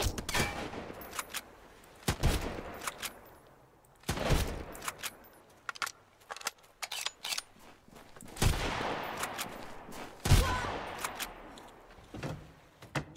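Pistol shots ring out in the survival game Sunkenland, a string of sharp irregular bangs and short volleys with quieter clicks and shuffling between them, fairly close with no talking.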